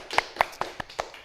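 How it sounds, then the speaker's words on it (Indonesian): A few separate claps in a classroom microteaching session, about five sharp hits spaced evenly at roughly a fifth of a second, fairly quiet and close, with no voices. "Tepuk tangan dong untuk kita semua."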